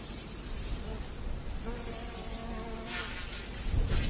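Harvester ants in northern Arizona swarm in flight during a mating launch, a thin, steady insect buzz of many wings hovering close, with brief louder passes near the end.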